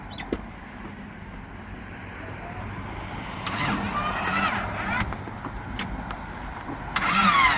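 The engine of a 1997 Honda Civic with an H22A swap cranks on the starter, with two distinct rising bursts of turning over above a rough, continuous background rumble and no one speaking.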